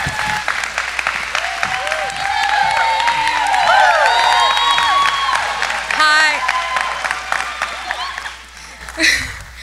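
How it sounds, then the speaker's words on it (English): Audience applause for interns at a 2022 graduation ceremony fills the room, steady and dense with some cheering and voices mixed in, then fading near the end. "Let's give them a round of applause."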